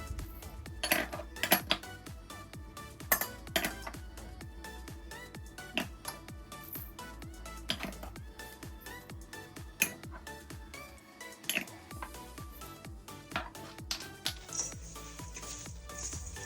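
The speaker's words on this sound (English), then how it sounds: "So I gave that a really good mix" Yogurt, garlic and ginger paste marinade being stirred in a mixing bowl, with a spoon tapping and scraping the bowl in frequent irregular clinks, quiet and close.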